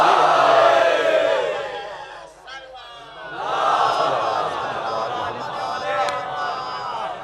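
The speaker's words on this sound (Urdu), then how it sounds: "یہ نعرے کا مقام ہے" A majlis audience loudly chants a religious slogan together in a large crowd of voices, with two surging waves separated by a short dip.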